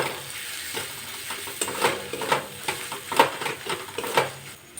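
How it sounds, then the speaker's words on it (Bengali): Masala of chicken masala and Kashmiri chilli powder frying and being stirred in a pan for soybean curry, a steady close sizzle broken by several sharp scraping stirs at irregular intervals. "মশলাটা খুব ভালোভাবে কষিয়ে নেব।"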